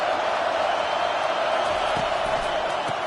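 Stadium crowd in an NCAA football video game, a steady, dense roar of fans making noise while the home defense has the opponent pinned deep, holding at a constant level throughout with faint muffled voices beneath.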